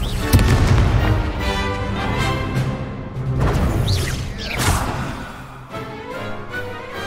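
Spell blasts and explosions from a Hogwarts Legacy wizard duel, a string of booming impacts and crackling bursts spread across the clip, loud and dense with layered game effects.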